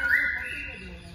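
A single faint, brief whistled parrot call at a reptile and bird park in Isfahan, Iran, sliding slightly downward in pitch before trailing off.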